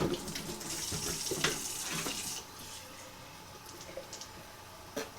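Water runs from a kitchen tap into a bowl for sourdough English muffin dough, a steady close hissing stream that eases and quiets halfway through, with faint clicks and drips at the end.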